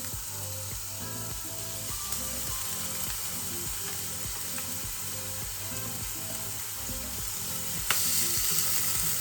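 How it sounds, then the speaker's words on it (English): Onion hits the pan in a chicken and vegetable stir fry and sizzles steadily throughout, a constant close frying hiss with faint rhythmic clicking and scraping underneath and a slight rise near the end. "that is sizzling a bit now, so I'm going to put the onion in"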